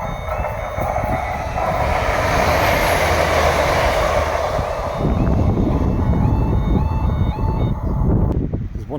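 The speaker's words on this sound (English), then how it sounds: "We have a train coming. The train's coming." A train rumbles past near the sea cliffs at Easington, a steady loud roar of wheels and carriages with a shift in tone partway through, and faint beeping tones over the top.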